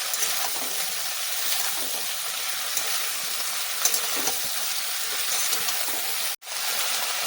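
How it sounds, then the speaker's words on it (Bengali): Dheki greens stirred in a pan with potatoes and pointed gourd: a steady, close hiss of frying with faint scraping, continuous throughout, with one brief dropout near the end. "এবার দিয়ে দিচ্ছি ঢেঁকি শাকগুলো ভালো করে একটু নেড়ে চেড়ে নেবো"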